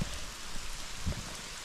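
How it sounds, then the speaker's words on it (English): A heavy rain downpour falls during a wild camp, a loud, steady broadband hiss of rain close by with occasional low thumps of drops hitting a surface. "it's just like it absolutely downpoured"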